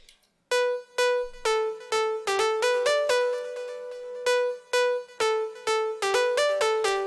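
A dry synth lead layer in FL Studio for progressive house, with no effects, playing a plucky melodic line of clear, bright notes at a steady pace, close and alone with no voices.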